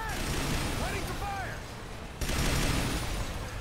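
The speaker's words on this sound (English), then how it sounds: "I'm literally just shooting any kind of thing over in that direction" Sustained gunfire and blasts in Earth Defense Force 4.1, loud and continuous with a fresh surge partway through, while a player talks over it.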